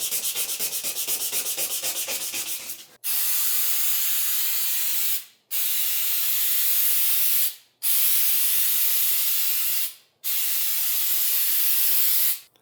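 A spray can is shaken with a quick rhythmic rattle, then lays paint onto a Nissan 240sx part in four long, close hissing bursts separated by short pauses.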